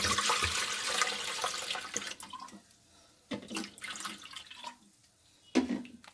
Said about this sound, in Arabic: هبدأ احط اللبن